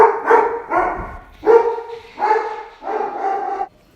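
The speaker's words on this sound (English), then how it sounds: "My dog was barking because my husband just got home." A house dog barks in a quick series of sharp, loud barks close by, several grouped yaps with short pauses between them and nothing else underneath.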